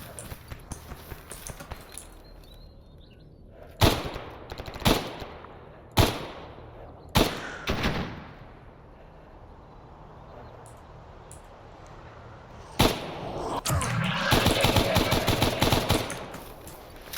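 Gunfire in the game Stalker Anomaly: sharp single shots and short bursts spaced several seconds apart, then a denser rattling volley near the end, loud against a quiet background.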